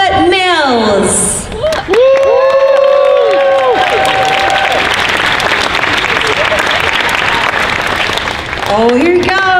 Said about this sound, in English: a huge round of applause for Robert